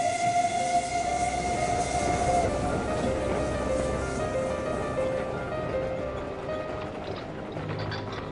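Rumble of a train rolling along rails in Europe, 2006 setting, a steady loud clatter throughout with tonal squeals and a faint whistle-like tone early on, gradually fading toward the end; no talking.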